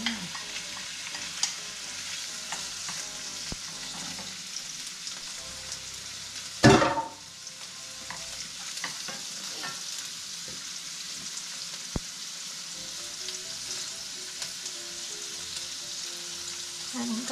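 Rice noodles with egg, scallion bulbs and pepper are stir-fried in a pan, giving a soft continuous sizzle with light scraping stirs and one sharp clank of a utensil partway through.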